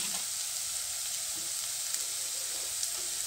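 A tomato mixture frying in a pan, giving a steady, soft hiss of sizzling oil with faint occasional stirring scrapes, close and continuous.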